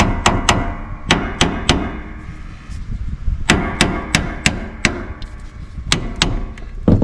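Sharp, ringing hammer blows strike a bolt on an Eaton 771 transaxle from a Grasshopper 721 mower, landing in irregular bursts of two or three hits with short pauses between.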